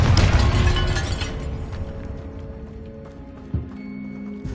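A Confringo blasting spell goes off in a Hogwarts Legacy tomb, opening with a loud, dense burst that decays into a long rumbling tail, with a brief thud near the end.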